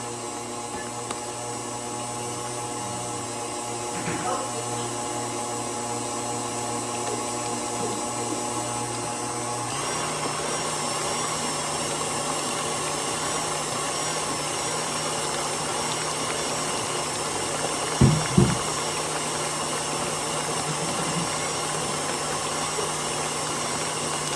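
An electric kitchen mixer runs steadily at a constant hum throughout, with a brief clatter near the end.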